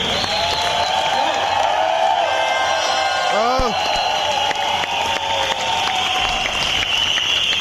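Audience applause following a poem recitation, a steady wash of clapping from a crowd that runs throughout, with a brief voice or tonal sweep rising near the middle.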